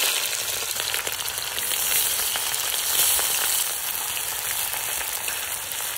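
Whole spices, bay leaf, cumin and onion sizzle and fry in hot oil, a steady dense crackle held close and loud for the whole stretch, with no voices.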